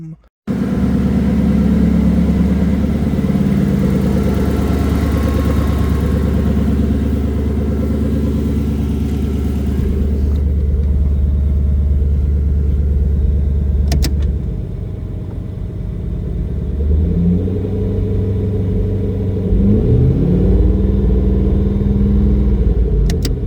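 A Datsun 280z with a 1UZ engine and an eight-speed gearbox cruising in regular drive mode, a steady loud rumbling engine drone that eases off partway through and then climbs again as it shifts up through the gears.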